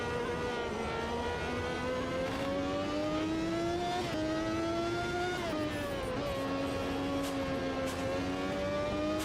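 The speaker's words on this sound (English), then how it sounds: "Sounds are really good for most cars, especially the open wheelers." A video game racing car engine, an open-wheeler, drones at high revs, its pitch rising through gears with brief dips at shifts, steady and continuous throughout.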